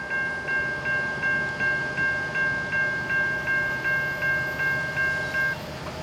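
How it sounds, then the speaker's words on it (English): A Norfolk Southern freight train led by an EMD SD70ACe locomotive passes near Canal Drive in Chesapeake, Virginia, with a steady rumble of cars and a string of regular clicking rail-joint beats beneath a tonal whine. "here we have Norfolk Southern 24G westbound here at Canal Drive"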